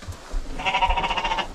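A sheep bleats once in a long, wavering call on a farm, close and fairly loud, following low shuffling and handling noises.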